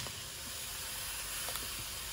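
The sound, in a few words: apricot jam boiling in pot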